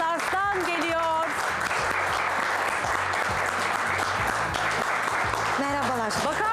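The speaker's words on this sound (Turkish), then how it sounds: "Alkışlar kimin için gelsin?" A television studio audience applauds as a guest arrives, loud sustained clapping running throughout while a host's voice carries over it at the start and end.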